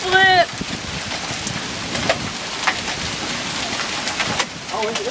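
Large hailstones pelt down outside a house in a storm, a dense steady clatter of impacts with birds chirping briefly at the start and end.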